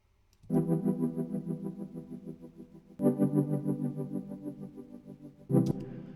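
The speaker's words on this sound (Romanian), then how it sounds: "Și un pic de reverb am mai adăugat." A synth loop is processed with roughly 30% Rough Crunch distortion from Beat Crusher plus a touch of reverb. It plays a loud, buzzy, sustained chord pattern that restarts twice, with no voices over it.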